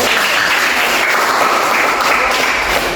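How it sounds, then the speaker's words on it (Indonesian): Loud, steady classroom applause from students in an Indonesian school lesson, many hands clapping together in a continuous close burst with no talking over it. "Oke, tepuk tangan dulu."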